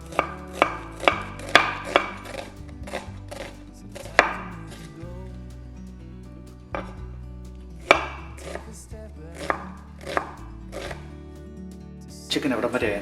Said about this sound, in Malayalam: ഇത് ഇച്ചിരി ചെറുതായിട്ട് അരിയണേ.